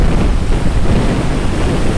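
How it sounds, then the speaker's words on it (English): Wind gusts and roaring surf from a stormy Lake Huron pound the shore, a dense, loud, continuous rush with heavy wind buffeting on the microphone. "Whoa! It's all windy down here. Lake Huron's roaring."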